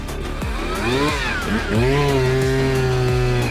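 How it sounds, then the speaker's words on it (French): A chainsaw sword's motor revs up and roars with rising and falling pitch, then holds a steady, loud drone, close and harsh like a chainsaw. "Un rugissement de moteur se fit entendre."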